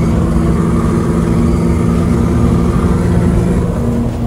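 Ford Ranger Raptor turbo diesel fitted with a new muffler and the resonator removed, a loud steady low engine drone heard from inside the cabin while driving in fourth gear, with no talk over it.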